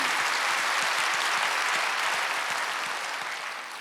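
Sustained clapping from a church congregation at a Wednesday service, dense and even, gradually fading toward the end.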